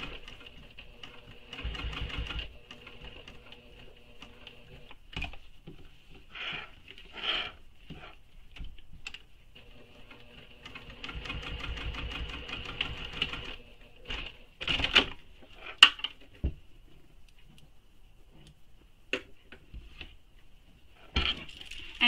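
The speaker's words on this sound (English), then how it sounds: "And now I'm going to top stitch again, just this V." A sewing machine top-stitches a V on a shoulder bag strap in short bursts of rapid, rattling stitching separated by pauses, with small clicks and handling noises between runs.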